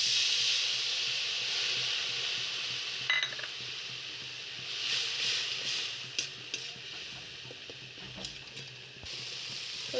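Soaked spice paste hits a hot pan for fish curry, setting off a loud, continuous sizzle and hiss with occasional stirring scrapes, close up and with no speech.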